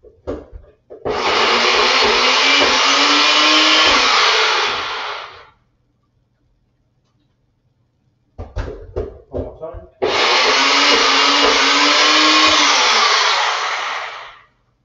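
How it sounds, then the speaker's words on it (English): Two loud, steady bursts of a blender whirring through ingredients for a nut-crusted lentil loaf, each running about four to five seconds, separated by a quiet gap with brief knocks and handling taps. "So by blending this here, I get a more smoothie-like consistency"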